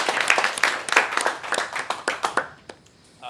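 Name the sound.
applause for the speaker after a tech talk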